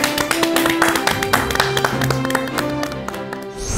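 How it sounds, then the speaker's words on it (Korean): An audience claps to welcome a guest professor onto a Korean talk show stage, a dense burst of applause that rings out close and loud for a few seconds and fades at the end. "박수로 맞아주시기 바랍니다."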